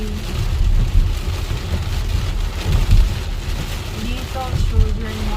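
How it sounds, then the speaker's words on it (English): Steady rain pours down during a thunderstorm in Illinois, a continuous dense wash of noise with low rumbling swells, while people talk quietly underneath. "Because it's raining."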